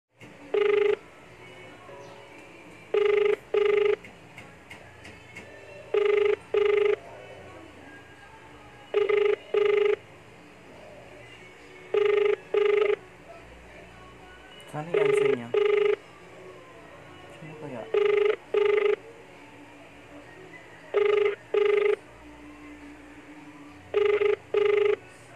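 A telephone ringback tone on an unanswered call repeats as paired electronic rings in a steady cadence, loud and close, with some faint background noise between rings.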